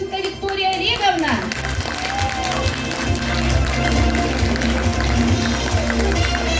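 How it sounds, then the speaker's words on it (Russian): Audience at a women's day award ceremony clapping for an honoree, steady dense applause that builds slightly and continues throughout, with a voice speaking over it at the beginning. "Заслуженные аплодисменты!"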